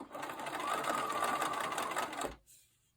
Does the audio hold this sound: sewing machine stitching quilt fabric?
yes